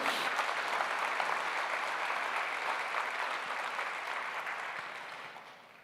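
A church congregation applauds together, a dense steady wash of clapping that holds strong and then slowly fades toward the end, with no talk over it.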